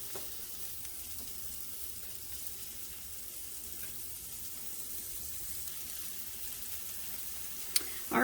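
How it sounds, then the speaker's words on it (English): Chopped vegetables sizzle in a skillet for breakfast migas, a soft, continuous frying hiss that stays faint and steady throughout, with a small clink near the end. "We're going to let these veggies sizzle up for just a minute."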